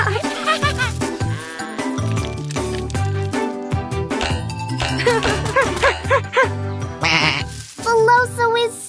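In a children's cartoon, Mila and Morphle, a fluffy sheep bleats over bright background music with jingly tones, its wavering cries repeating loudly in close succession.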